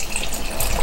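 Stock poured into a pot of homemade chili, a brief steady gushing splash of liquid, close and moderately loud.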